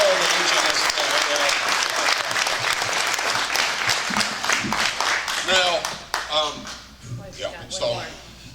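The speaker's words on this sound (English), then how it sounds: "let's give Bill and Jan another little round of applause" Audience applauding two authors at a meet-the-authors event, a dense, loud round of clapping that thins out toward the end as voices start talking.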